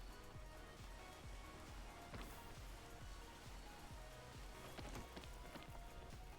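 Rain falling in the video game PEAK, a faint, steady patter with scattered droplet taps throughout.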